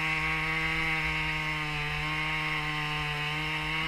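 A Logosol F2+ chainsaw mill cuts through a willow log, its steady engine drone and harmonic whine holding constant and loud for the whole stretch, with no talking.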